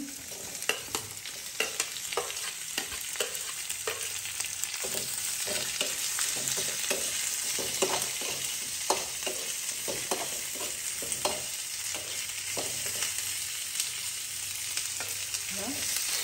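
Onion fries in a pan until light brown for an Indian-style prawn curry, a continuous close sizzle broken by frequent scraping and clinking of a spoon stirring, no talking.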